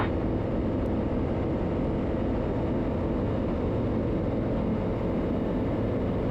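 A KFA Safari STOL light aircraft's engine drones steadily and loudly during the takeoff climb, a dense, continuous roar from start to finish with no voices.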